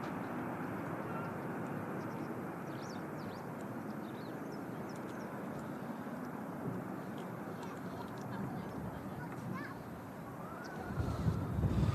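A Virgin Atlantic A350-1000 departs windy Manchester, a steady, broad jet roar from some distance over wind buffeting, swelling slightly toward the end.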